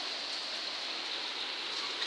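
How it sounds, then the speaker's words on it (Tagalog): Heavy rain pours down outside, heard from indoors as a steady, even hiss, with a sharp click just at the end. "Sobrang lakas ng ulan."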